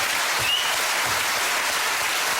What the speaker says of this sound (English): applause from 600 people.